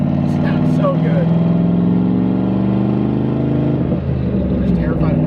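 A turbocharged car engine with an aftermarket turbo kit droning loudly and steadily from inside the car during a test drive, a dense rumbling tone throughout, with people talking over it.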